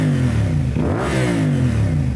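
A CFMOTO Ibex 450 motorcycle fitted with a Yoshimura slip-on exhaust revs loud and close, its engine note dipping and then climbing again in a smooth throttle blip.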